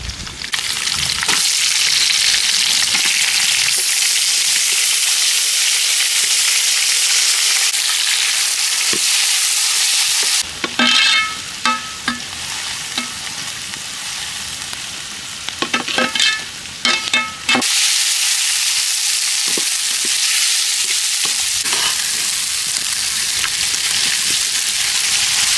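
Chopped onion frying in peanut oil with spices for a village-style quail curry, a loud steady sizzle that runs throughout, with a short quieter stretch of stirring and clinks in the middle before the full hiss returns.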